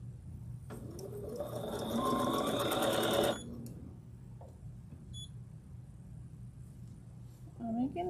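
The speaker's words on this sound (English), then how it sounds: "I'm making stitches." A home sewing machine stitches fabric in a fast mechanical whir for about three seconds, then stops, leaving a quiet room with faint clicks and a brief voice near the end.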